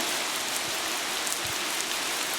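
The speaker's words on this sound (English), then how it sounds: "I'd like to hear some rain with the sound of somebody humming" Steady rain falls on a surface, an even, continuous hiss with no voices.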